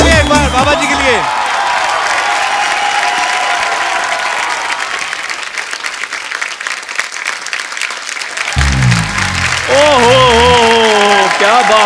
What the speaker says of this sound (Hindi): अरे बक सुना ये जोरदार ताली एक बार बाबा जी के लिए।